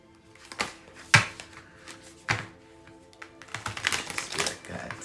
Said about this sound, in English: So let's do another shuffle or two.